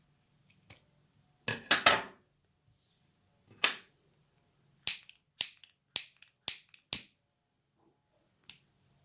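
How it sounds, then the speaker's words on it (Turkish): Scissors snipping excess satin ribbon while making a kanzashi flower, a series of crisp, close cuts in brief bursts separated by near silence, with a quick cluster early and several evenly spaced snips later. "Fazlalığını kesiyorum."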